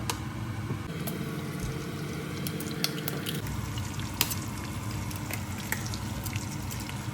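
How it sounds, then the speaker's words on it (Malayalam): Eggs scramble in coconut oil in a pan for restaurant-style egg fried rice, giving a steady close frying sizzle with stirring scrapes and a few sharp clinks, heard alone. "നമ്മളിനി പാനിലോട്ട് മുട്ട സ്ക്രാമ്പിൾ ചെയ്യാൻ വേണ്ടി ആവശ്യമുള്ള വെളിച്ചെണ്ണ ഒഴിച്ചു കൊടുക്കാണ്"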